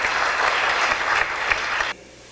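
A church congregation claps during a Sunday worship service, a dense, steady wash of applause that fills the room and then cuts off abruptly near the end.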